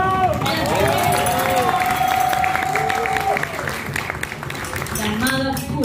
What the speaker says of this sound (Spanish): Fuerte el aplauso que tiene.